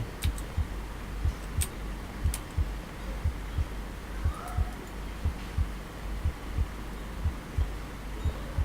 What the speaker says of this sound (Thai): หัวใจเต้นแรง